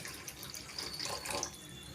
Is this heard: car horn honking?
no